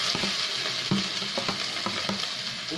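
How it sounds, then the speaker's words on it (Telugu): Corn snack frying in a pan while being stirred, a steady sizzle with repeated scraping strokes of the spoon against the pan, close and alone. "కొంచెం పచ్చరాసి పోయేదాకా వేయించి ఇప్పుడు వీటిని కూడా కొంచెం వేసేద్దాం"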